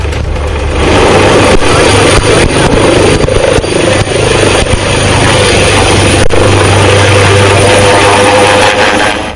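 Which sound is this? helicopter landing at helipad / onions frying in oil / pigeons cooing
helicopter landing at helipad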